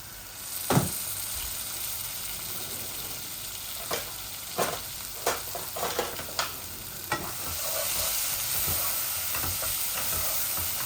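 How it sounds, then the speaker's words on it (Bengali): Chicken and tomato puree fry in a pan, a steady sizzle running underneath a series of sharp stirring scrapes and clanks, with the sizzle growing louder and denser toward the end. "আস্তে আস্তে এগুলা বাজা বাজা হোক"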